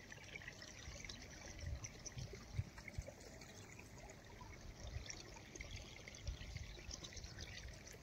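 Irrigation water flowing steadily through a farm field, a soft continuous trickle and gurgle with faint outdoor background and no talk.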